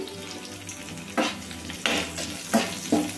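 Chopped green chili pieces fry over medium flame in a pan with a soft continuous sizzle, broken by several sharp scraping stirs of a spoon against the pan.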